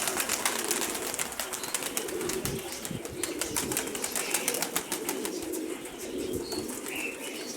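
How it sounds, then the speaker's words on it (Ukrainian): A flock of birds flies close overhead, producing a dense, continuous fluttering of many flapping wings that sweeps steadily past outdoors, with no talking. "Стадо бакланів, мабуть, поперло."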